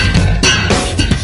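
Slide bass in a super slap style, with notes on a bass guitar bending into pitch, played loud and close in a short burst of several smeared attacks, no voices.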